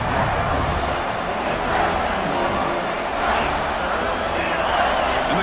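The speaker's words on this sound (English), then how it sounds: "And the crowd coming to life here" A stadium crowd in a college football video game, Penn State against Georgia, roars in a steady, dense wash of cheering that swells and holds, with the broad crowd noise filling the clip and no clear speech.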